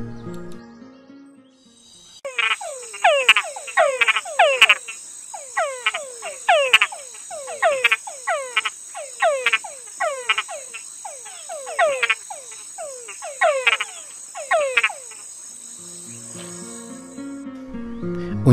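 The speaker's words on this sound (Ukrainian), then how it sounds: "Гіпсібоас мешкає у саваннах, в пересихаючих гирлах річок, у болотах, часто забирається на сільські угіддя." Hypsiboas tree frogs in the Colombian Amazon croak in a dense, rapid chorus of repeated downward-sweeping calls over a steady high insect drone, close and loud for about fifteen seconds before fading.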